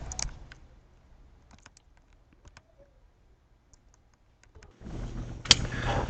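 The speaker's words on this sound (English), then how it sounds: "we're going to go ahead and continue typing in our program" Sparse clicks and taps on a computer keyboard, quiet and close, while code is typed into a Python program, followed by a louder burst of noise near the end.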